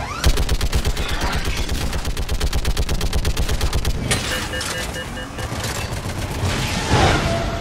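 Rapid automatic gunfire in the video game Mass Effect 3, played on Insanity difficulty during the Priority: Earth mission, a loud dense stream of shots for about four seconds before breaking into scattered bursts and blasts.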